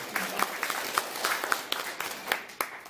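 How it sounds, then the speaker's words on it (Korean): Modest audience applause at a policy forum on unreturned prisoners of war, fairly quiet and somewhat distant, with individual claps standing out from a thin crowd. "네, 큰 박수 부탁드립니다."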